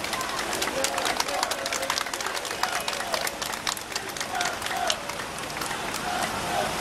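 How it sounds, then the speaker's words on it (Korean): A crowd at an outdoor election campaign rally claps steadily in sustained applause, dense and continuous, with voices and faint cheers mixed in. "박수 실컷 쳐주십시오."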